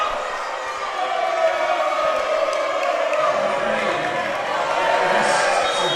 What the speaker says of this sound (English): And the crowd doesn't like that.